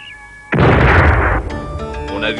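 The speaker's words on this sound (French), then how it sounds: "prenons l'exemple d'un tir de canon observé à une certaine distance" A distant cannon shot: a sudden heavy boom with a broad rumbling roar that holds for about a second before fading, over steady tonal background sound.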